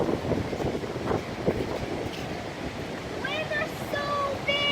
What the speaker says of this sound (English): Waves are so big.